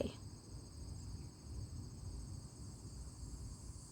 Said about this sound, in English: I love the sound of cicadas.